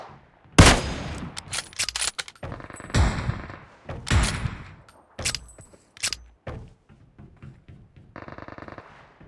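Gunfire from enemies fighting each other in a video game: irregular sharp shots in short bursts and single cracks, some loud and close, others quieter, with a rapid-fire patter near the end.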